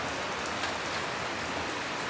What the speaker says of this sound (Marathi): तुम्ही बघू शकता इकडे किती जोराचा पाऊस पडतोय आमच्याकडे